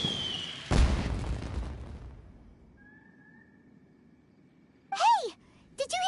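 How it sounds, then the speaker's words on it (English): A sudden, sharp blast from fireworks goes off in the Genshin Impact game world, followed by a fading rumble, quiet ambience, and later a couple of short, bright chirping effects. "Did you hear that explosion?"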